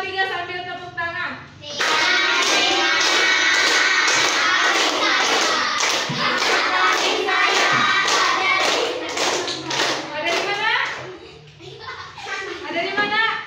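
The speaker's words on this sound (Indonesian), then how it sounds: "sambil tepuk tangan" Children in a grade-3 classroom clap their hands in a steady, even rhythm while singing a song together, with the claps loud and close for most of the stretch before trailing off into singing.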